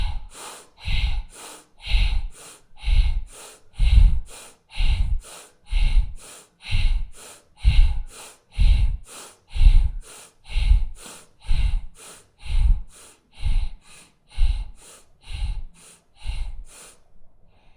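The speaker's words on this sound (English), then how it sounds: "breathe deep and loud" Deep, loud yoga breathing in a steady rhythm, about seventeen forceful breaths roughly one second apart, each a rough whooshing rush of air close to the microphone, with no talking.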